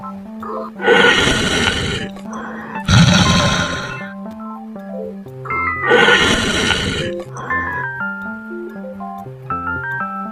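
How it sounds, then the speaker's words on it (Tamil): A lion roars in two or three loud, rough bursts over a steady background melody of simple synthesized tones. "சிங்கம்."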